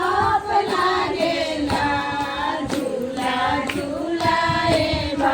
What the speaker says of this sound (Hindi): मैं सिर्फ सुनती हूँ और ताली बजाते हैं।